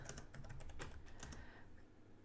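Steady typing on a computer keyboard, a fast run of close, crisp key clicks with no voices, fading slightly toward the end.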